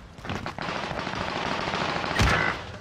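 Rapid automatic gunfire in Call of Duty: Modern Warfare multiplayer, a dense continuous stream of shots with a louder, heavier burst near the end, close and dominant with no talking.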